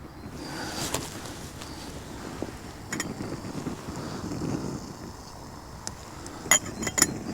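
Wind blusters across the microphone in a steady low roar at an outdoor camp with a Trangia stove and Stanley cook set, broken by a few sharp metallic clinks.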